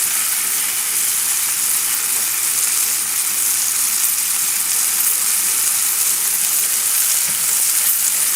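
Chilean sea bass fries in hot oil in a pan, a steady, close, unbroken sizzle and crackle that holds at an even level throughout with no talking.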